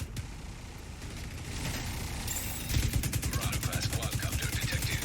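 Rapid automatic gunfire in the video game The Division 2, sporadic shots building into a sustained, loud rattling burst of fire over a steady mechanical background hum.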